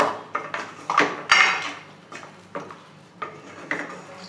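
A spoon scrapes and clinks against a pot of mutton korma with yoghurt, in repeated irregular strokes about twice a second, close and moderately loud, with no talk.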